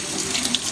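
A kitchen tap runs steadily while a chef knife is washed after sharpening, a close, continuous splashing hiss of water into a sink.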